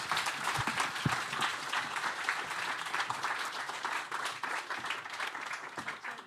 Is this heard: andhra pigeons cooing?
no